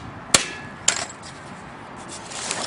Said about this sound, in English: Just going to tap this piece here with a hammer, try to break it open.